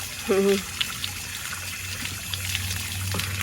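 Water trickling steadily from a school water tap, a soft continuous stream that follows a brief vocal sound at the start.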